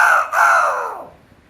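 A human voice imitates a rooster crowing: one loud, close, drawn-out cock-a-doodle-doo with a brief break near the start, falling away over about a second with no other sound.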